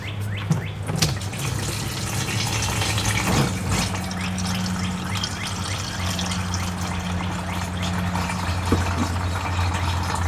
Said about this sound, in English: It only takes a minute or two to drain the fluid out.